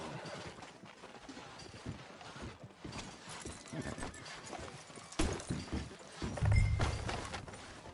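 Horse hooves clip-clop in the Red Dead Redemption 2 video game, a soft irregular patter of steps under quiet game ambience, with a brief louder burst near the end.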